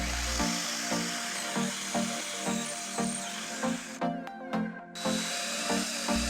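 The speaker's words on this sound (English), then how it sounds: "let's drill it about 1 inch deep" An electric drill with a 3/8-inch bit bores about an inch into a wooden chair leg, whirring steadily with a rhythmic series of grinding pulses and a brief pause near the end.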